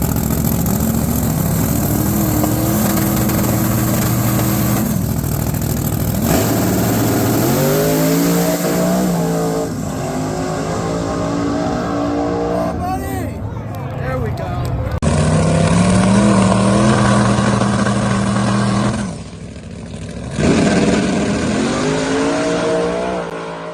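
A drag race car's engine revs and spools up repeatedly, loud and close, its pitch climbing in long sweeps with short breaks between pulls and a person talking over parts of it.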